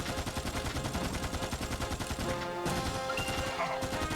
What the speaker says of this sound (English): Machine gun tells you it's time to go.